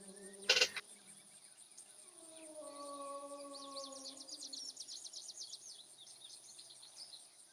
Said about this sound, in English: We're hearing a really faint bird.